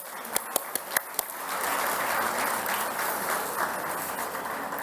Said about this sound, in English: let us give you a big round of applause